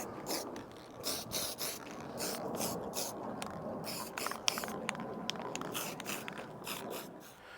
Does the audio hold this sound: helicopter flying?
no